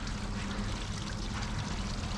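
A small garden water fountain runs in a continuous, even splashing trickle, close and steady with no breaks, under a low outdoor rumble.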